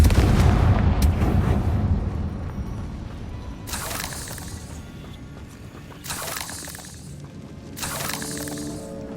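A Confringo fire spell exploding in the Hogwarts Legacy video game: a heavy blast and crackle at the start, followed by three sharp bursts spaced a couple of seconds apart, each with a bright shattering tail.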